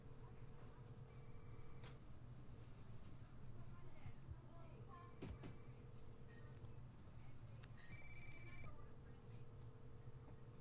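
A faint telephone ringing in the Law & Order Legacies detective video game, with repeated electronic trill bursts and short tones over a low background hum, while a voice talks quietly.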